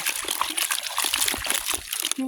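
Water splashes and sloshes steadily while fish are washed during an outing to catch fish, with light talking mixed in.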